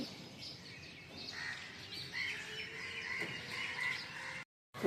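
Birds calling and chirping outdoors at dawn as pigeons arrive over an empty street, steady overlapping calls of moderate loudness with background ambience, ending in a brief gap.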